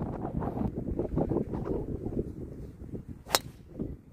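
Strong wind blows across a dunes golf course at Flamingo CC, buffeting the microphone in a loud, gusty rumble, with one sharp tick near the end.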